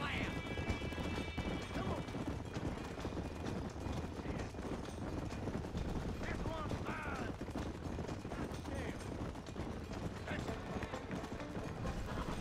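Horse hooves pound steadily in Red Dead Redemption during a race, blended with game noise, occasional gunfire-like cracks and ongoing talk.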